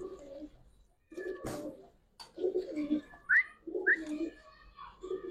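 Giribaz pigeons kept as breeding pairs give soft, repeated low coos close by in several short bursts, with a couple of brief higher calls in between.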